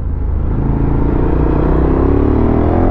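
A 2013 KTM 1190 Adventure motorcycle engine drones steadily under gentle throttle while riding, a close, loud, continuous rumble with wind noise.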